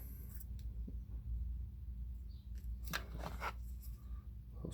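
Scissors snip through natural feathers up close, a few quiet, crisp cuts over a low hum, no talking.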